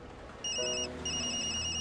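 A telephone rings in two short, bright electronic bursts separated by a brief pause, close and clear against a quiet background.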